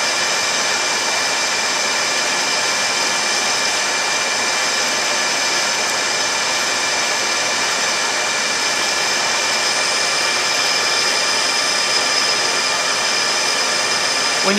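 Metal lathe parting off a washer, a steady, loud, even machine hum with a constant high whine, unchanging for the whole stretch with no talking.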